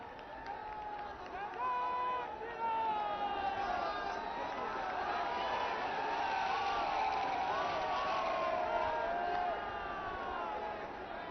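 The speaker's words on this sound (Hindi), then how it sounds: "जोरदार तालियों के साथ अपने प्रणाम मंच तक पहुंचाएं माननीय प्रधानमंत्री जी के चरणों में।" A large crowd greeting the Prime Minister with a sustained wash of applause and cheering, some whoops and chanting voices swelling on top, steady and loud throughout.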